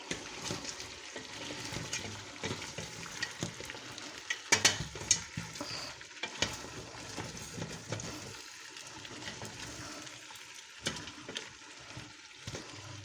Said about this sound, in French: On va touiller.